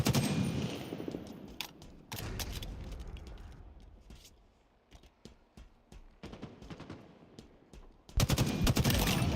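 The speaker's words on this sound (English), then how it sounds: "In a hail of gunfire." Bursts of rapid automatic video game gunfire crackle loudly, pause for scattered single shots, then erupt again in a heavy volley.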